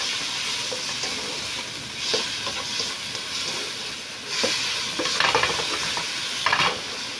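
Beef sautéing in a pan with pepper and fish sauce for a beef misua soup, a steady close sizzle with scraping stirring strokes and occasional louder bursts, no talking.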